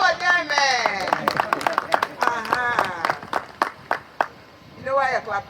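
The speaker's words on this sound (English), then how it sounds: "Well, clap for this two. Clap for them, man." Scattered claps from a gathered audience ring out as sharp, separate slaps over a man's loud, close voice, growing sparser toward the end.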